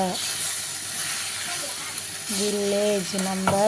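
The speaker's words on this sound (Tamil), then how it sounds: "இந்த அளவுக்கு நல்லா பச்சை வாசனை போகிற அளவுக்கு நல்லா வதக்கிட்டு" Ingredients for a spicy kara chutney sauté in a pan with a continuous close sizzling hiss; a voice speaks over the last part.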